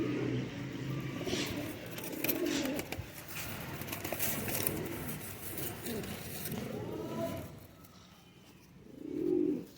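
Nele Patti pigeons coo in soft, repeated low rounded calls, with a bird close by and a louder coo near the end, over steady background noise and traffic.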